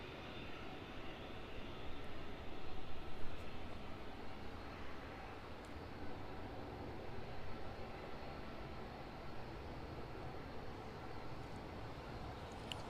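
A Ryanair airliner on the runway at East Midlands Airport, a steady broadband engine roar heard from a distance that swells slightly early on, then holds at an even level throughout.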